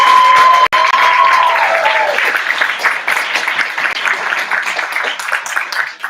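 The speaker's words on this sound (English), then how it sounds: "Keep that round of applause going for Nina" Audience applause for a poet at the Berkeley Poetry Slam, loud dense clapping with some cheering that swells and then slowly thins over several seconds, with a brief tonal whistle or cheer near the start.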